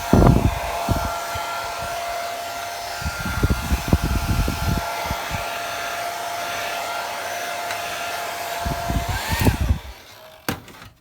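A hair dryer blows steadily, up close, over a washed Lexan Blitz GT4 RC car body to dry it. The continuous whoosh and whine is broken by bursts of handling and knocking noises, then cuts off near the end.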